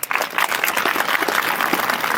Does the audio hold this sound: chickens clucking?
no